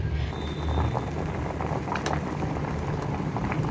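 Taro roots bubbling as they boil in a pot of water, a steady dense simmer with a low rumble that runs evenly from start to finish.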